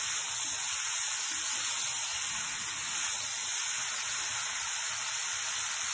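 Chopped tomatoes sizzle with onions in a pan while making homemade pizza sauce, a steady, close, bright frying hiss that stays even throughout with no talk.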